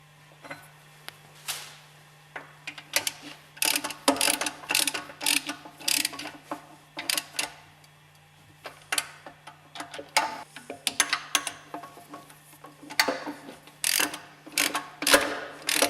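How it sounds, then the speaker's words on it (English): A ratchet clicks in short bursts, rapid and close, as the three hex head screws are tightened on the spindle of a Westfalia purifier. A faint steady hum runs underneath, with brief pauses between the bursts of ratcheting. "Bolt tight the spindle with the 3 hex head screws."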